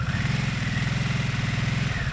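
A 2022 Harley-Davidson Nightster motorcycle engine runs close by at a steady idle, a rapid even pulsing throb with a faint mechanical rattle, uninterrupted for the whole stretch.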